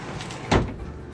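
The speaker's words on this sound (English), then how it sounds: "I like those power doors." A powered door aboard a luxury bus gives one short whooshing slide close by against a steady background hum, lasting only a moment.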